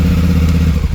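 Starter button cranking a motorcycle engine, a dense low mechanical churn with clattering, steady and close for about a second with no talk.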